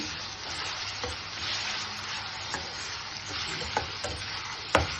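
A raw mango roti pachadi chutney is stirred into a sizzling tempering with curry leaves in a pan, giving steady close-up frying hiss with occasional scraping taps of the spoon.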